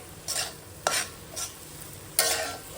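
A fish head and cabbage are stirred in a sizzling frying pan, with four distinct scraping bursts of the spatula standing out over a soft, steady fry.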